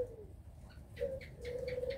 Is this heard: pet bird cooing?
yes